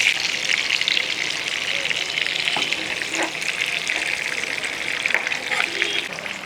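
Bengali-style fish fries in a pan with a continuous, close, hissing sizzle that stays even throughout, with a few faint clicks and stirs underneath.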